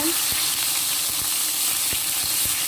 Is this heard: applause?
no